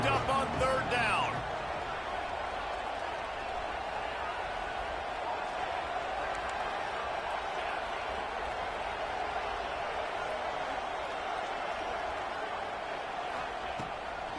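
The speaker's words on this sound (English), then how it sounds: "Crowd getting this defense whipped up on third down" Stadium crowd at an Arkansas college football game roaring on third down, a loud continuous wall of cheering and noise that holds steady throughout, with a brief burst of speech-like sound at the start.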